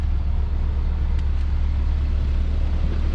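A truck idles nearby as a steady, unbroken low rumble that holds at one level throughout, with no voices.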